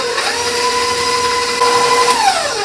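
An electric mixer runs through cookie dough made with dry pistachio pudding mix, a loud, close, steady motor whine that shifts slightly in pitch before winding down at the end.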